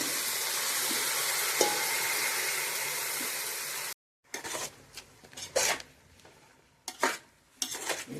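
Tempering is poured over mixed vegetables in a pan, giving a loud, continuous sizzle for a few seconds. Abrupt silence follows, then several sharp bursts of scraping and stirring, close up.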